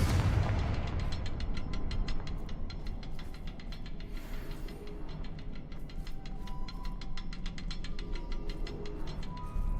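Confringo fire spells in Hogwarts Legacy go off as a fast, even run of booming blasts that pound over a heavy low rumble, loud and continuous throughout.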